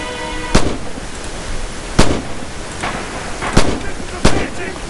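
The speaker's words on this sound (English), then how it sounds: "Oh, actually it's the Walther" Walther G41 rifle gunfire in the Red Orchestra 2 Stalingrad shooter, four sharp, loud shots spaced roughly a second and a half apart over a steady background rumble of battle.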